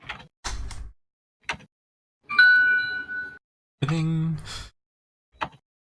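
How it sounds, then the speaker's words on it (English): A phone notification chimes with a short, clear ding, among sparse knocks and clicks in an otherwise quiet room. "That was my phone."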